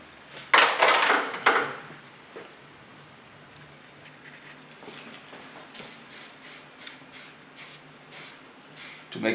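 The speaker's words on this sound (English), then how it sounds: "To make it possible to play with the hair, I use a soft hairspray of Lanza." Lanza soft hairspray sprayed onto styled hair in a salon, a loud hissing burst near the start followed by a series of short, evenly spaced quick spritzes later on.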